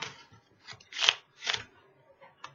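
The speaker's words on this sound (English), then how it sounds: "for this trick, you can shuffle up the deck" A deck of playing cards shuffled at close range in short riffling bursts, three or four quick papery flutters separated by brief pauses, with no talking.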